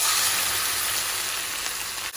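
Hand-grated carrots for gajar ka halwa sizzle steadily in hot ghee, a dense, close, continuous frying hiss with no voices.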